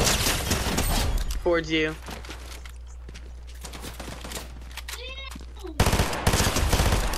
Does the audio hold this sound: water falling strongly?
no